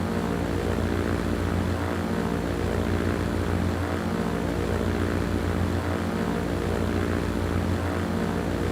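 Propeller airplanes in the Transport Fever 2 simulation game, a loud, steady engine drone with a faint rhythmic pulsing, continuous and without talk.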